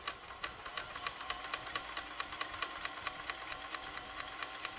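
A vintage Janome Combi DX 502 running in serger mode gives a rapid, even mechanical ticking and stitching hum, close and steady for about five seconds, with no voices.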